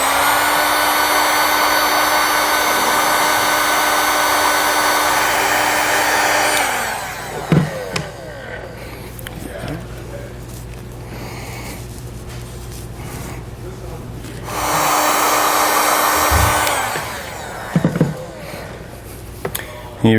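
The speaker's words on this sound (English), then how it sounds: "Take our heat source." A heat gun blows on heat-shrink over ATV winch cable wiring for a 2020 Honda Pioneer 1000-5, a loud steady whirring hiss that cuts off, then returns briefly, with handling clatter in the quiet gaps.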